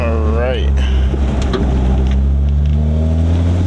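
A manual car's engine revs and accelerates while the driver shifts gears, a loud close drone with a rising rev near the start, then a steady cabin hum while a person talks over it.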